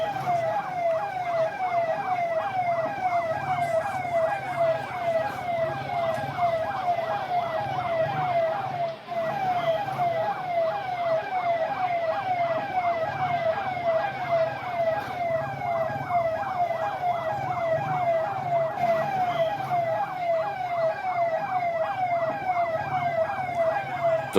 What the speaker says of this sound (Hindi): उसमें आपको साफ साफ दमकल के सायरन की आवाज़ आपको आ रही होगी